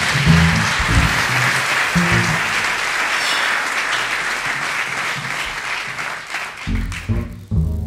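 A concert crowd at a Yecla jazz festival applauds the sound engineer, a full, steady roar of clapping that thins toward the end as low-pitched talk rises briefly at the start and close.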